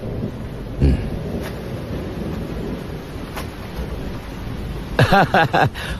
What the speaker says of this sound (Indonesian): Kita tunggu di sini sampai hujan berhenti ya.